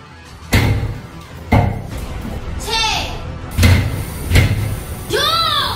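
A door is slammed hard about five times in quick succession indoors, each bang sharp and loud, while someone shouts and talks between the slams.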